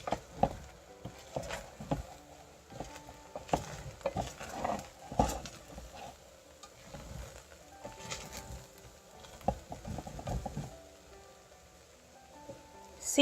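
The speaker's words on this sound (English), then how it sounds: "So I'm just going to give it a little stir." A spoon stirs Ghanaian braised oil rice in a cooking pot, producing soft irregular scrapes and light patters, close and quiet, with occasional clinks against the pot.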